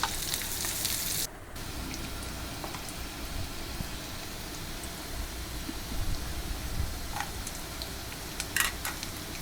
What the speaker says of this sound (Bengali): সেই তেলের ভিতরে জিরা দিব। তারপর কেটে রাখা পেঁয়াজ দিয়ে দিব।